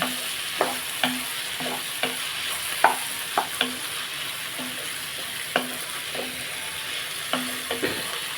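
A spoon stirs ivy gourd and tomato curry in a pan, giving a series of soft scraping clacks at irregular intervals over a faint, steady sizzle, with no talking.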